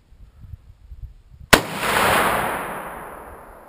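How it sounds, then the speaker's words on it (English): A Remington 750 rifle fires a single sharp, loud shot after near silence, followed by a long rolling echo that slowly fades. "Weapon fired and ejected."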